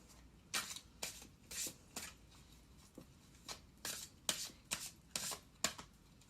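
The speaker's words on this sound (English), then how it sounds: "I always like to shuffle in front of you." Tarot cards being shuffled by hand, a series of crisp riffling bursts repeating roughly every half second, close by with no voices.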